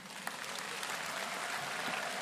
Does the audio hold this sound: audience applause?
yes